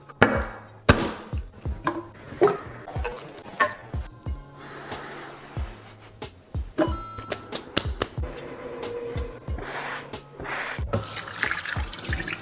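A garlic clove being bashed in a home plant-based kitchen while making garlic orange juice: a series of sharp, close knocks and thuds in an irregular rhythm, with wet, squelchy handling noises between the hits.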